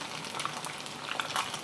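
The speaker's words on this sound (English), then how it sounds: "I would just fry my eggs first, but I find frying my eggs in the frying pan I'm more used to" Eggs frying in vegetable oil in a frying pan, with a soft continuous sizzle and a few small crackles and pops, close by with no talking.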